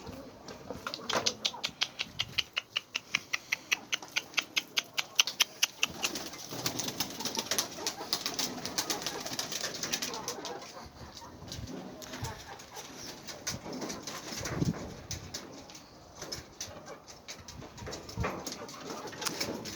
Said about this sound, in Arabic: هذا الحمام كله مال سطح تعب